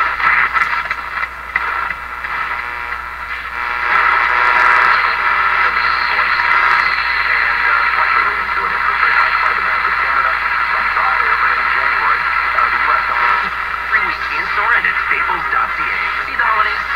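A Canadian Philco portable radio on an antenna hisses with steady static and a garbled broadcast voice drifting through the noise, continuous and fairly loud throughout.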